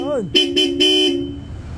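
An aftermarket Europa horn fitted to an adventure motorcycle blares in three short, loud, close blasts, the last held slightly longer, right after a brief rising electronic chirp.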